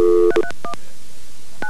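Telephone keypad tones ring out as a call is transferred at a 1993 Honda Canada dealership, a quick cluster of crisp beeps followed by a few more beeps, near and clear with no talk.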